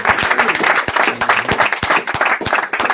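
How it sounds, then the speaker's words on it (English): Audience applause from a small group gathered at a meeting, with dense, steady hand clapping carrying on through the clip at a close, lively level, with no talking over it. "I want y'all to give her a big round of applause."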